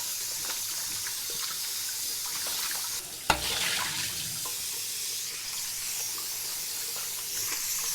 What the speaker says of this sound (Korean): 자, 물 버려줍니다.